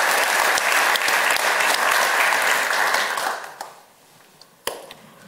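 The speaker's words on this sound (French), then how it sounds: "je pense qu'on peut les applaudir pour leur accueil" Audience at a morning team keynote of a conference applauds loudly and steadily for several seconds, the dense clapping thinning out toward the end with a few scattered final claps.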